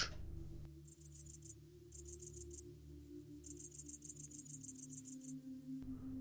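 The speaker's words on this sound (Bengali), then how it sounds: "আর ঘাসফড়িংয়ের শব্দ কিছুটা কর্কশ" Insect stridulation: bursts of high, rasping buzzy pulses in irregular groups, fairly close, with short pauses between bursts and a low hum underneath.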